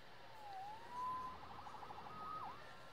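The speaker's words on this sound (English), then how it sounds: "Saved by the siren." A police siren in the Spider-Man video game wails faintly in the distance with a couple of rising and falling sweeps over a low ambient hum, with no talk.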